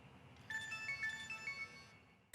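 A phone ringtone plays a bright, repeating electronic melody for about a second and a half at low volume in a quiet room, then cuts off abruptly.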